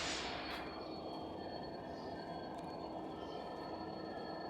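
Inside the Sagardari intercity express between Rajshahi and Khulna, the train runs with a steady low rumble and broadband roar, thin metallic wheel whines drifting above, and no voices.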